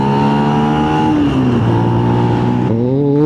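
Motorbike engine running loud and close with a steady harmonic drone that drops in pitch as the rider shifts down into second gear, then rises again as the revs build; no talk.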